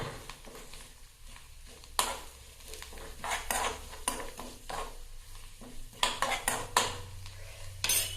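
Grated coconut and garlic roast in a pan for onion and drumstick sambar, with a soft steady sizzle under repeated scraping and clinking of a spatula against the metal pan, close and without talk.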